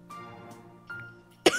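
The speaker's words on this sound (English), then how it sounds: "Becca starts coughing heavily." A character in the horror visual novel The Letter coughing heavily: a few soft, close coughing sounds build to one sharp, loud cough near the end.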